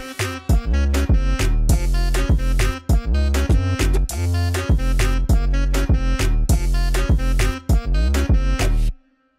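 An alto sax lead from an FL Studio plugin rides over a full electronic beat drop with heavy kicks and punchy drums, loud and dense throughout before cutting off abruptly near the end, with no talk.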